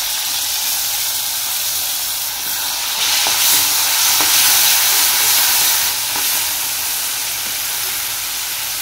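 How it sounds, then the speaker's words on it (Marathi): Yogurt poured into a sizzling tempering of chillies, tomato, potato and peanuts, giving a steady loud frying hiss that swells midway and carries on alone without talk. "टाकूया आपण आता फोडणीमध्ये दही"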